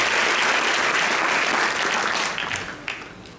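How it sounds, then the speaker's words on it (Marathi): Loud, dense audience applause at a Marathi lecture on Shivaji's life, sustained for about two seconds before thinning and fading toward the end, with no talk over it. "एकदा जोरदार टाळ्या देऊन"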